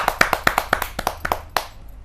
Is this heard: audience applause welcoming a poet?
yes